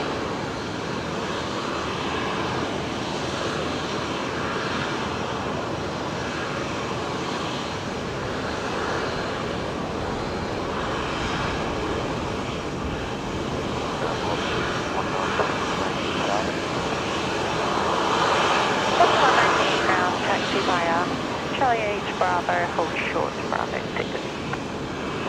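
A Singapore Airlines A350-900 lands on runway 19 left at Brisbane in a direct crosswind, a long broad engine roar that swells slightly toward the end, heard at a distance under intermittent talk.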